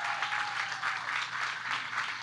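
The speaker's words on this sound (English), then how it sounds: "Let's give a big round of applause." An audience at a charity gala claps for a couple of seconds, a soft, even patter of many hands heard from a distance, without cheering.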